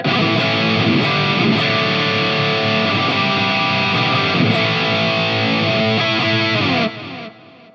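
Distorted electric guitar through a Fractal AM4 chugs steadily through a full-range flat-response speaker cabinet, loud and bright, with rhythmic picked chords before a final ringing chord fades out.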